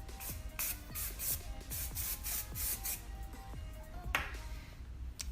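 Hairspray is sprayed onto brushed wavy hair in about half a dozen quick, rhythmic close pumps, followed by a pause and one more burst.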